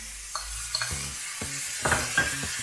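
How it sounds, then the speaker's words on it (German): Beef liver frying in a pan with finely chopped rosemary, soft sizzle under intermittent stirring and scraping clinks, close and moderately quiet. "Die Leber, die hat noch keine 2 Minuten gebraten und ist schon fertig"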